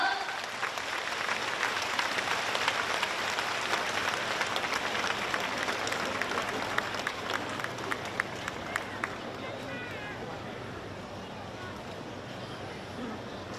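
Large audience applauding at a Buddhist metaphysics Q&A gathering in Johor Bahru, Malaysia, as the presenter is welcomed; dense, sustained clapping fills the hall for over ten seconds, fading slightly toward the end.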